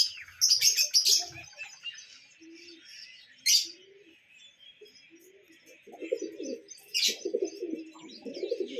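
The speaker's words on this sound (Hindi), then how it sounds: "कितने खूबसूरत कबूतर हैं" Pigeons calling in a bird enclosure with parrots and lovebirds nearby, a mix of sharp chirps and low soft coos, bursts of bright tweeting at the start and around the middle, deeper cooing building toward the end, fairly close.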